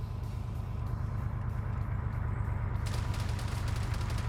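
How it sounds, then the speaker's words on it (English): Military vehicles rumble toward players in a multiplayer war video game, a steady low engine drone with a brighter rattling layer joining near the end, no voices. "They hear those vehicles, though."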